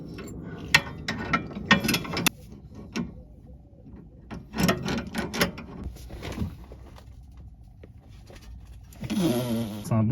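A torque wrench ratchets with quick mechanical clicks while loosening a bolt. The close, crisp bursts come in several runs spread through the clip, with quieter gaps between them.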